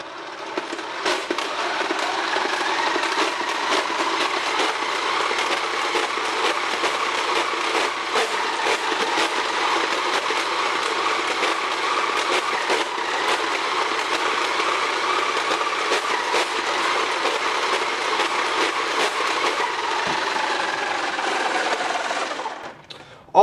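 A 2001 Nerf/Larami Gyrostrike flywheel blaster runs at full rev, its steady whirring hum and rasping mechanical noise continuous and loud for over twenty seconds, with individual shots blending into the constant spin before it cuts off.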